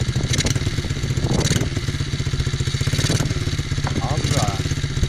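An MRF pit bike motorcycle engine on a first ride, running with a steady, rapid throbbing beat that swells slightly with light throttle, loud and close throughout.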